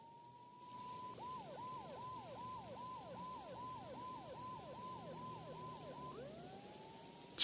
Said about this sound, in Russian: Должно быть, Мона тоже слышала сирены